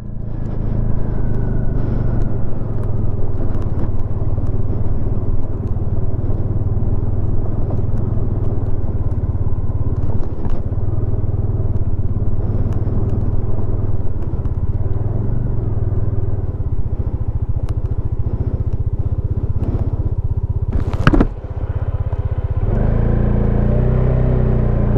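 Car engine rumbling steadily up close on a dusty desert road between Pang and Sarchu in Ladakh, a continuous loud drone with a sharp clatter near the end and no speech.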